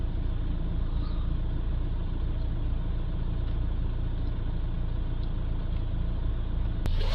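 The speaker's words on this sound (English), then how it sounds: "now we'll take the van on a 10-minute test drive up and down" A Renault Trafic van on a road test drive, its engine droning steadily inside the cab with constant low road rumble and no voices.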